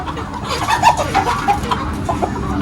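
Fighting roosters cluck at a country chicken restaurant near the Salem–Chennai bypass, a busy run of short, close bird calls and clucks with some background noise and no speech.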